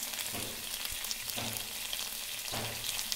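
Cauliflower manchurian stirred and fried in a pan until golden brown: a steady, close oil sizzle with periodic louder scraping stirs and no talking.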